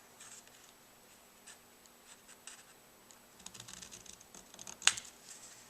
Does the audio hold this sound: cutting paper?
yes